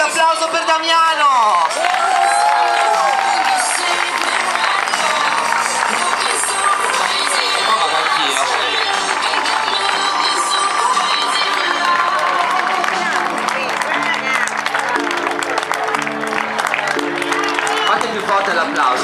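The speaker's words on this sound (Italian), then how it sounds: "Forte l'applauso, dai, siete qua per quello" An audience at a fashion night show applauds and cheers in a loud, continuous roar of clapping, whoops and crowd babble. A voice speaks over the noise.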